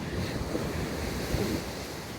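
Sea waves wash onto a beach at Khao Lak in Thailand, a steady broad surf roar mixed with wind noise buffeting the microphone, with no voices.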